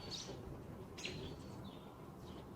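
Faint birds chirping outside a window, a few short, high tweets spaced apart and heard distantly over a quiet indoor hiss.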